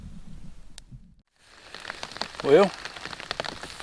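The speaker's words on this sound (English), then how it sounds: "it started raining." Rain begins falling at a campsite, a dense patter of drops on surfaces that swells after a brief quiet gap and holds steady and close. Someone speaks a word over it midway.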